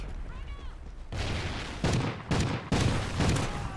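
Heavy shotgun blasts in Call of Duty: Ghosts, three loud booming shots spaced about half a second apart, following a quieter stretch of game sound with a distant voice underneath.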